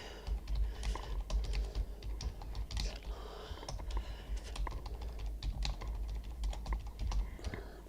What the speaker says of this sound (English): I'm not typing well either.